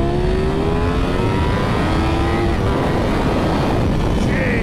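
A 2024 Ducati Panigale V4S motorcycle engine accelerates hard, its loud, rising whine climbing steadily in pitch throughout, close and continuous with no voices.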